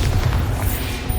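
Bombarda spell explosion in the Hogwarts Legacy video game, a short, loud, rumbling boom with low-end weight that fills the whole moment.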